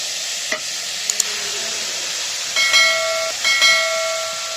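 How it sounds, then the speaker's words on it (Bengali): Boiled cauliflower with spices being stir-fried in a pan for cauliflower bhaji: a steady soft sizzle and hiss, with a few light spatula scrapes and clinks, then two louder bursts of stirring toward the end, no voices. "দিয়ে এবার ভাজি করতে থাকবো সুন্দর মতো।"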